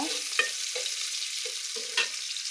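Softened chopped onions fry in a pan while a spoon stirs them, with a few scraping strokes and occasional sharp clinks over a continuous close, gentle sizzle. No one speaks.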